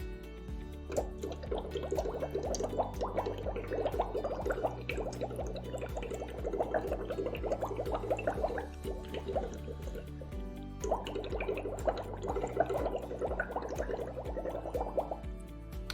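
Continuous bubbling and gurgling from air blown through liquid to test Defy alkaline water, steady and close for the whole stretch, with a tonal background bed underneath.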